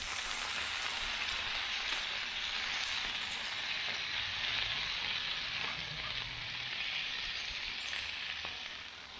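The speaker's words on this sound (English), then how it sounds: "you're going to push it right down into that griddle top" A smashburger patty with Colby Jack cheese sizzles on a Blackstone griddle, a bright, steady crackle and hiss of frying fat that stays continuous and close throughout, with no talking.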